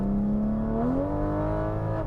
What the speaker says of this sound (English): But now let's hit it and see what the engine is like.